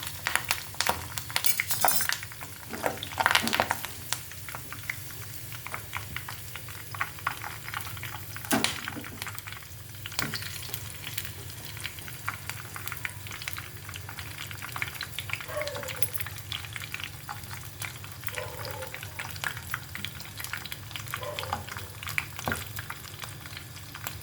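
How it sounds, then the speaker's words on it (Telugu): Green chilies and curry leaves sizzle and fry steadily in a pan of hot oil, with occasional scrapes and stirring sounds. "ఇందులోనే మనం 2 పచ్చిమిర్చి, ఒక 4 పచ్చిమిర్చి, కరివేపాకు కూడా వేసి వేగించుకుందాం."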